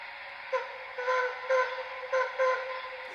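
An MTH Shay model train's steam whistle effect sounds a string of short, bright toots, about five quick blasts in a row, fairly close and clear with no talking over them.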